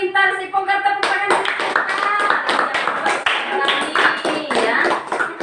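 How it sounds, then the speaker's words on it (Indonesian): Children in a classroom clap together in a loud, dense burst after a tone-like voice opening, the claps continuing steadily and close for several seconds with some voices mixed in. "Tepuk tangan."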